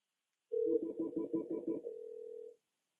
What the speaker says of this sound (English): I'll now have to press the dial button on the phone to complete the call